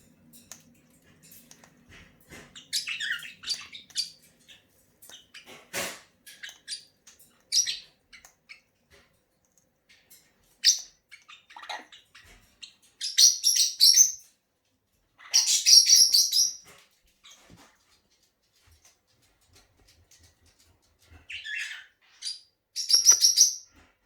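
Small birds in an indoor bird room chirp and tweet in scattered bursts, some short and sharp, others in brief trills, with quiet gaps between calls and no talking.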